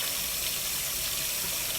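A tap runs steadily and fairly loudly while a Brazilian hair wig is rinsed and shampooed, a dense, even hiss of water with no break and no voices.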